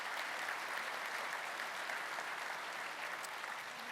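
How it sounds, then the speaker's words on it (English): A seated audience at an NDTA keynote gives a round of applause welcoming a new deputy commander, a general: even, continuous clapping from many hands, moderately distant and sustained without pause. "Let's give him a round of applause."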